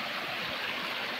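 A river in Zambales flows with a steady, close rushing and gurgling of water, continuous and alone with no voices.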